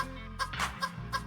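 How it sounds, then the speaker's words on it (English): Chickens clucking close by in short, irregular bursts of three or four clucks over a steady low hum in the background. "chickens and turkey dancing."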